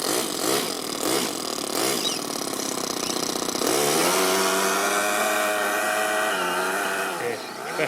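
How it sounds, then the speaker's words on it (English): An RC car with a 4-stroke overhead cam engine, spinning its wheels: a high, buzzing engine revs hard and holds a steady, loud whine up close, with no voices. "Wheel spin happening here."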